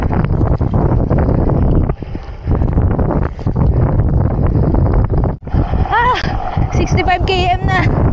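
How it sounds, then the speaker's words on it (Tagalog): Gusty wind roars into the microphone on a gravel bike race climb, loud and continuous, with a rider speaking over it and a few whistling tones near the end. "Tapos ang lakas ng hangin."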